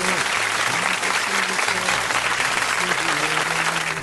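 Wedding guests applaud steadily and loudly at a large crowded wedding by the sea, continuous dense clapping with crowd voices underneath throughout.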